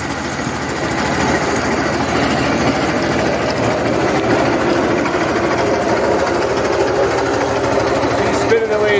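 Honda 13 hp engine on a flail mower running steadily after a pull start, a loud continuous low mechanical drone with rapid rhythmic pulsing throughout, close by.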